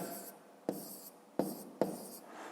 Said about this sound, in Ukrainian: Давайте десь запишемо.